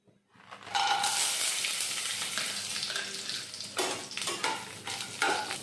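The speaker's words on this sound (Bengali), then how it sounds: "নাড়াচাড়া করে এর মধ্যে দিচ্ছি কাজু আর কিশমিশ।" Cashews and raisins are stirred with cloves, a cinnamon stick and green cardamom in a hot pan, giving a bright sizzle with rhythmic scraping strokes of a spatula, close and fairly loud.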